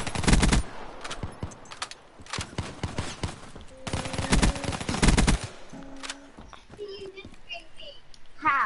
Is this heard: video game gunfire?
yes